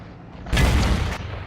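A single heavy cannon boom from an IS-6 tank's gun in a video game bursts in, loud and deep, ringing for about half a second before dropping back to a low rumble.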